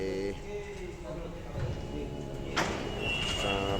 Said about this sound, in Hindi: देखते हैं दरवाज़ा भी खुल जाएगा अपना से।